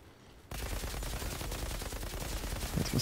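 Rapid automatic gunfire from the video game Outriders bursts in after a brief quiet moment and keeps up as a loud, dense, continuous rattle of shots.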